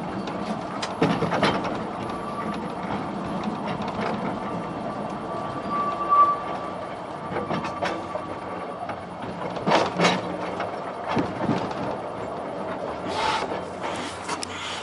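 Oigawa Railway Ikawa Line train pulling into Ikawa terminus, with a steady low rumble of wheels and car body throughout, occasional louder rattles and clunks, and a faint brake squeal near the stop.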